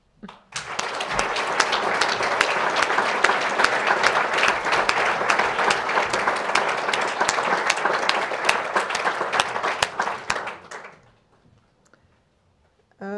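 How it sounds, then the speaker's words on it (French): An audience applauds at a course opening ceremony, a dense, sustained round of clapping that rises quickly, holds loud for about ten seconds, then fades to silence. "mais on va applaudir Nathalie Vignat pour son travail"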